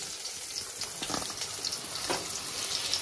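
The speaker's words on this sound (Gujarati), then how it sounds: "વઘાર કર્યો" Chillies and spices temper in hot oil for a samosa potato filling, giving a steady, close sizzle and crackle throughout with no talking.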